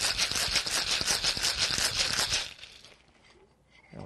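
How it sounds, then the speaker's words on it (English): A cocktail shaker filled with ice is shaken hard while mixing a Chinese Cocktail with triple sec and bitters, a fast rhythmic rattle for about two seconds that then stops, leaving near silence. "give it a good shake"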